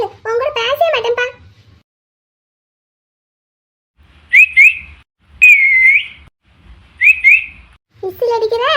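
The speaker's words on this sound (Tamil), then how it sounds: "விசில் அடிக்கிற சேட்ட பையா." A person whistles several short, bright tonal bursts, some in quick pairs and one held a little longer, close and fairly loud, with a voice talking just before and after.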